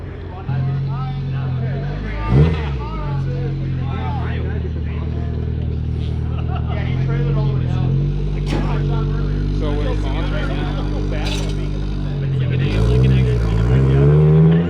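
Several Toyota AE86 cars pull away from a nighttime meet of only AE86s in Texas, their engines droning and revving close by, with one sharp rise near the start and a louder surge at the end, under people talking.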